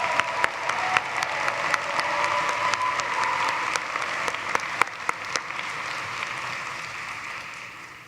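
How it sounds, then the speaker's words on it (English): A commencement audience in an arena applauds steadily for several seconds, dense clapping with a few sharp individual claps standing out, gradually fading toward the end. "One more round of applause, please."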